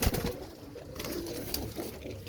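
Soft, low cooing from a pair of home-bred teddy pigeons sounds close by in a quiet loft, with a few scattered wing rustles and clicks.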